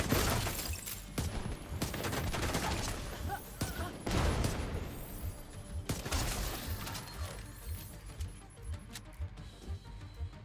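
A flashbang goes off in a Left 4 Dead-style zombie shooter, a loud burst in the middle of dense gunfire and crackling effects that keep going the whole time.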